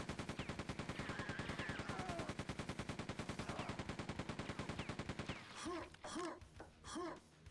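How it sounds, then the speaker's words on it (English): Rapid machine gun fire in the video game Quake II: Ground Zero, a steady loud stream of automatic shots for several seconds, then stopping and giving way to a few swooping in-game effects. "Let's use my machine gun a little bit."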